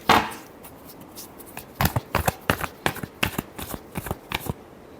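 Close, crisp tarot card shuffle: an opening riffle, then a rapid series of sharp slaps and flicks in an uneven rhythm, alone with no talking.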